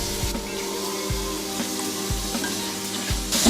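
Fresh green peas, carrot, two green chilies and grated coconut sauté for a peas pulao, a low continuous sizzle marked by four evenly spaced thuds or scrapes from stirring, with no speech.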